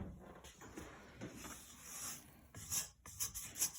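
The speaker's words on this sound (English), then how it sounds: "I'm going to scrape the sides while you look." A spatula scrapes the sides of a mixing bowl of batter during a home cooking class, soft irregular rasping strokes close by and fairly faint.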